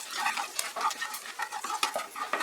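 Panch phoron spices and dried chilies frying in hot oil: a close, crackling sizzle with quick pops and spoon clicks mixed in across a couple of seconds.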